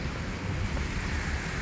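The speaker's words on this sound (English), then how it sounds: "Listen to the birds and the water." Water rushes in a steady, dense wash at a quiet downtown spot on a rainy day, continuous and fairly close, with no clear birdsong standing out above it.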